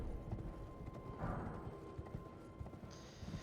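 A horse galloping in the video game Elden Ring, with quick rhythmic hoofbeats drumming steadily under game ambience, fairly quiet and without talk.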